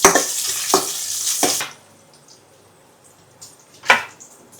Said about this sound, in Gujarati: અને 2 મિનિટ આમાં સાતળી લેશું.